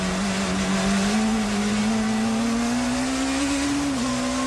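A 1990s touring race car, Peugeot or BMW, screams past in a loud, sustained engine whine with a steadily held high pitch and dense roar, close and alone without talk.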